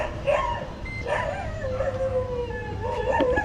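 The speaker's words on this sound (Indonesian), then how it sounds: "itu ada yang menggonggong di sana kawan-kawan." A dog howls and yelps from somewhere nearby in a Malay village neighbourhood of Tanjungpinang, with long wavering cries repeating over steady outdoor background noise.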